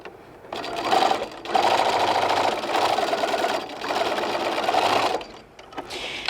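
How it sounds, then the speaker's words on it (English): A sewing machine stitches along the edge of a fabric gift bag, running in steady, close bursts of mechanical whirring separated by short pauses, with no voices. "We're gonna go to the sewing machine, and I'm gonna stitch along the edge, and that'll close this out."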